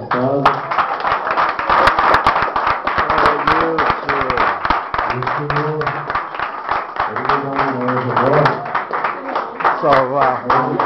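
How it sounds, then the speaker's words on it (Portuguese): Congregation clapping hands in rhythm during a worship service, steady dense claps throughout, with loud singing voices over them. "Glorifica o Senhor com as palmas"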